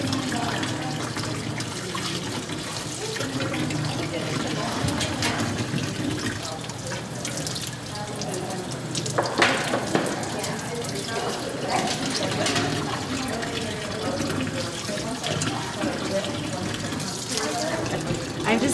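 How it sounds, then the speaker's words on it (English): Running tap water rinsing out a small piece of animal intestine being cleaned for gut sewing, a steady close splashing stream with irregular spatters as the gut is handled, under occasional talk. "I'm just rinsing out this little piece of intestine, rinsing out the inside of it so that when we deflesh it, it won't have any debris"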